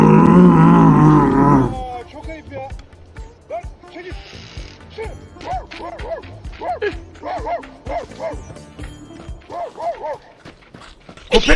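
A man imitates a zombie with a series of short, guttural growls and groans, coming in bursts after a loud opening noise, with faint background sounds between them.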